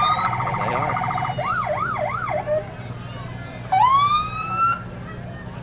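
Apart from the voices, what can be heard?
police car siren blast at parade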